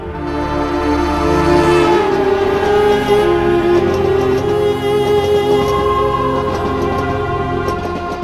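A train runs along the railway line through Gorumara forest in the Dooars, a loud, sustained rumble with drawn-out tonal horn or wheel-squeal notes holding steady for the whole stretch.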